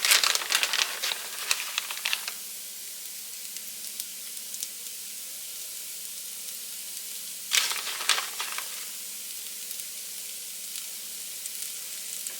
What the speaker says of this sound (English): I've turned my hash browns. They're getting a nice crisp on them and browning up pretty good.